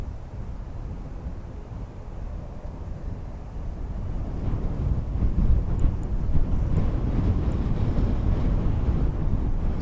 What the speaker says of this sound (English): So that crosswind obviously affecting the arrivals a little bit on the far side.